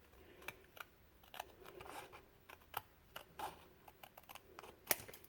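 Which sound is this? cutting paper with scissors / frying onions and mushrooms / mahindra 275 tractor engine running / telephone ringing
cutting paper with scissors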